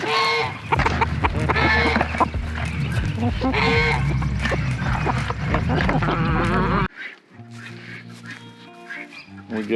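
Chickens on a homestead cluck and squawk steadily for most of the clip alongside other poultry-like calls, with a fuller, busier sound at first that drops to sparser, quieter calls near the end.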